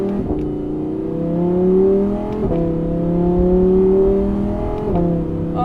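Audi R8 Performance accelerating hard, its engine pitch climbing steadily then dropping sharply at two quick gear shifts, loud and close with no talk.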